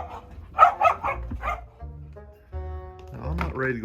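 Dogs barking indoors in a house, a cluster of sharp barks up close followed by a whine or yip, with tonal background sound running underneath.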